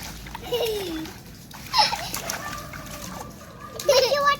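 Children splash and play in cold water, with bursts of splashing and sloshing mixed with excited kids' voices and shouts.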